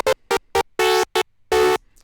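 Vital synth lead with soft clip distortion, playing short gated stabs and two longer held notes, bright and buzzy, alone and up front.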